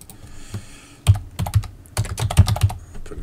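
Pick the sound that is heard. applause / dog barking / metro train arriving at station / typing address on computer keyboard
typing address on computer keyboard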